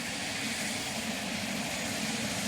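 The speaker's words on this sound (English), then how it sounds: "helicopter cooling down" Helicopter cooling down after landing in the DayZ video game, a steady broadband rotor and engine whine holding evenly throughout with no voices.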